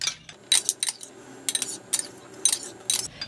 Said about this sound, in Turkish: Malzememizin hepsini karıştıralım.